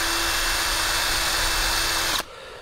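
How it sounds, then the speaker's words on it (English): A power drill bores a pilot hole into wood with a steady, loud, close whine that holds for about two seconds, then stops abruptly, leaving faint room noise. "you can start drilling a hole and it just goes off center"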